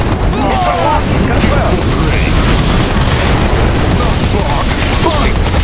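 A rocket launches in the video game Red Alert 2, a loud, sustained rumbling roar of broadband noise with steady intensity throughout, like a massive booming blast-off.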